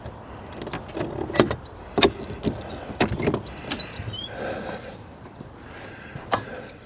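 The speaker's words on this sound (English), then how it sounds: "I just dropped my keys" Keys jangle and clatter in several sharp metallic bursts near a 1972 Volkswagen Super Beetle, close and loud, with scattered shuffling and handling noises between them.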